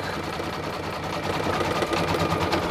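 Brother VE2200 single-needle embroidery machine stitching a hat in a hat hoop, a fast, even mechanical chatter of needle strokes running continuously at close range.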